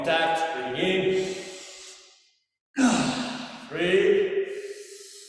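A person takes two long, audible breaths during an isometric aikido exercise, separated by a short silent pause. The breaths are close and loud, with a sighing, voiced quality.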